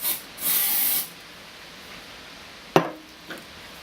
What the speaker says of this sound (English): What I'm going to do is spraying the window surface first